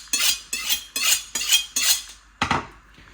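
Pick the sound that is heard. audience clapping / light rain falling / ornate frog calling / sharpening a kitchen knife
sharpening a kitchen knife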